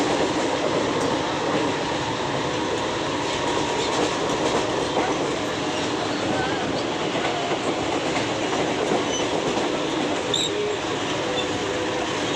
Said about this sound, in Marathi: आपण लोकल पकडलेले आहे लोकलमध्ये पण खूप गर्दी आहे